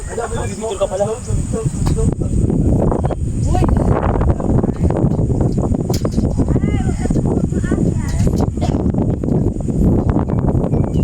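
Strong wind on a hanging bridge buffets the microphone with constant roaring gusts while a voice talks excitedly over it.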